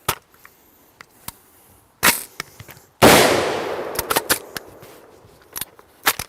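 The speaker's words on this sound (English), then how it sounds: "All right, last mag, let's try full auto." A POF-USA rifle fires on its last magazine, a few sharp single shots, then a loud close burst followed by scattered cracks and echoes outdoors.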